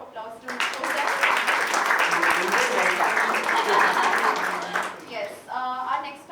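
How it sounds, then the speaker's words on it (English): Audience applause at an industry roadshow panel event, a dense burst of clapping that swells and holds for about four seconds, then fades as a voice begins speaking. "So give a round of applause to Kosal"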